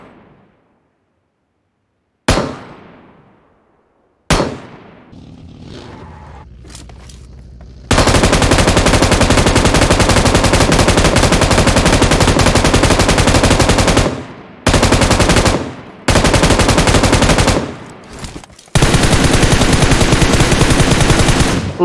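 Sustained automatic gunfire in PUBG Mobile, loud and close, with long continuous bursts broken by short pauses after a few isolated shots and a brief lead-in.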